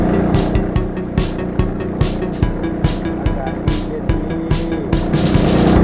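A loud longtail boat engine on the Song River in Vang Vieng, Laos, drones steadily while sharp rhythmic slapping bursts repeat roughly every half second, close and continuous.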